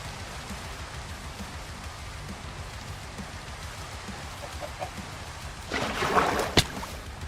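Rain falls in the video game Minecraft, a soft, steady pattering hiss in the background, with a brief louder splash and a sharp click near the end.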